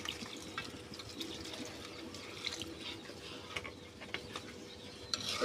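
Water trickles and splashes into a cooking pot in a home kitchen, a quiet, uneven patter with faint clinks of the pot, fairly close but low in level.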